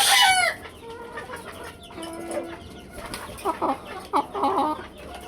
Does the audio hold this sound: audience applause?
no